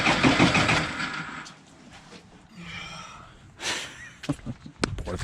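A forestry skidder's freshly rebuilt engine, just back from a pump repair and tune-up, cranks and tries to catch: rough broadband churning and sputtering up close, ending in a few sharp knocks and bursts.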